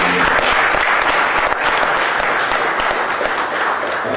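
Loud, close applause from an audience at the Malcolm X & Betty Shabazz Center welcoming a speaker, dense clapping sustained evenly throughout without talk.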